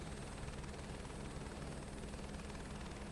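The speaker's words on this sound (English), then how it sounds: "Watch the helicopter fall out the sky." A video game helicopter falling from the sky: a steady, dense mechanical roar with a low rumbling throb of rotor and engine droning continuously without pause.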